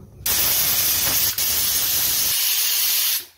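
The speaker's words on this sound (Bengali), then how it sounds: "5টা সিটি দেওয়া হয়ে গেছে।" A pressure cooker of beef and cabbage releases steam through its whistle in one loud, steady hiss that starts abruptly, runs for about three seconds and then cuts off.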